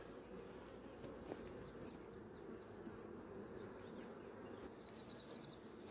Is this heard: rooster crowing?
no